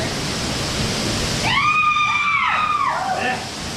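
Broad, constant rushing water of Thoseghar waterfall nearby fills the clip, while a voice calls out over it partway through.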